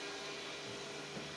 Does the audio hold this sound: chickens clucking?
no